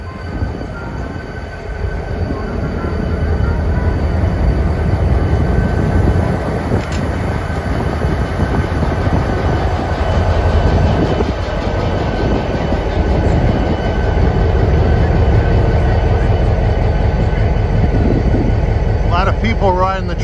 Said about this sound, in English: Let's take a listen to this classic General Motors diesel.